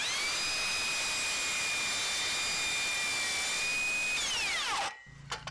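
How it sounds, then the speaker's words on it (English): A Makita 36V 7-1/4 inch cordless circular saw ripping through pine, a loud, steady high-pitched whine under load for several seconds, then winding down as the blade spins out, no talking. "as far as it goes with cutting the ripping of the pine, man, it just goes through like nada"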